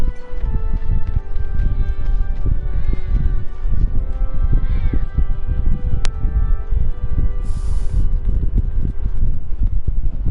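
A cat meows inside the Final Fantasy VII Remake game world, the faint cries mixed into steady background game ambience and wind-like noise, with no talking heard.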